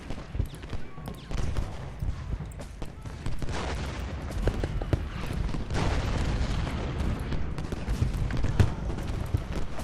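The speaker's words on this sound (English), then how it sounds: "See if we can do a little bit of counter-artillery fire here." Cannon and artillery fire from the Civil War battle game Ultimate General Gettysburg, a dense, continuous rumble of booms and volleys with sharp reports scattered throughout, faint speech mixed in.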